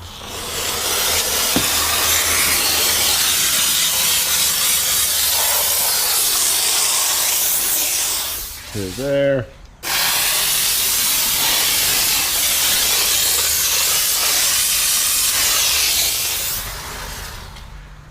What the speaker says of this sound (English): some steam coming out of there